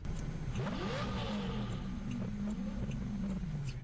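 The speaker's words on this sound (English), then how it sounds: "You hear the yellow Lambo." A yellow Lamborghini's engine revs and accelerates, its pitch sweeping upward into a sustained high-revving roar heard from a distance, somewhat muffled.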